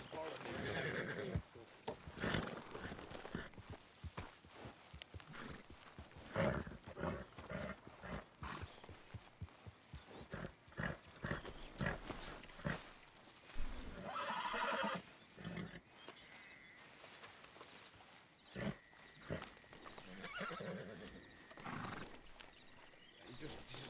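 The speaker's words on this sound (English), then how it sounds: "Let me calm down my ornery damn horse" An ornery horse whinnies repeatedly and hooves clop as it moves about, heard under near-continuous talking from several voices.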